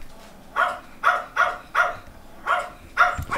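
A nearby dog lets out six sharp, evenly spaced barks, roughly every half second, against a quiet indoor background.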